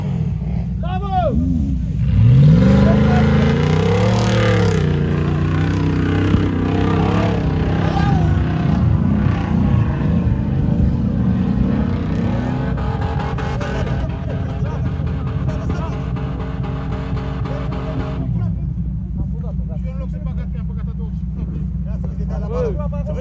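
Off-road vehicles, led by a Range Rover fitted with a BMW 4.4 V8, rev loudly and climb in pitch, the engine roar rising and falling over twenty seconds while people shout and talk over it.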